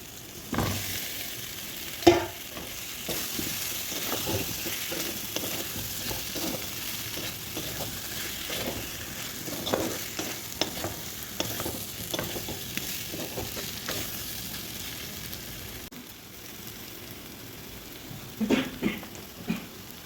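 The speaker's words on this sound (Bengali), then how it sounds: "আদা রসুন আর শুকনো লঙ্কা। এটা একটুখানি ভালো করে ভেজে নেবো যতক্ষণ না মশলার গন্ধটা যায়।" Ginger, garlic and dried chilies fry in a pan with a steady crackling sizzle, broken by frequent scraping taps of stirring, for about twenty seconds with no one speaking.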